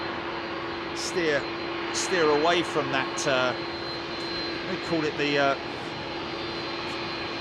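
Boeing 737 MAX jet engines at Heathrow hold a steady, loud drone with a high whine throughout, while someone talks over the engine noise in several bursts.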